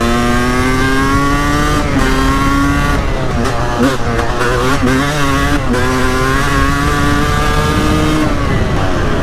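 A dirt bike with a newly fixed rear shock ridden at high speed, its engine loud and close with steady revving that rises and falls in pitch, covering the whole stretch without pause.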